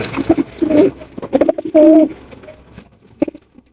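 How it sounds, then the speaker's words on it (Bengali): Racing pigeons cooing up close, a few soft throaty coos in quick succession with short breaks between them. "আছে একজোড়া রেসার কবুতর"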